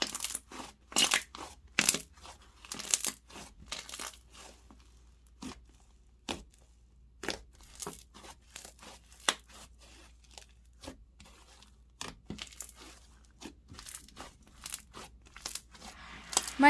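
Scrub sponge slime squeezed by hand, a run of close, crisp crackling and squelching bursts in irregular clusters separated by short quiet gaps.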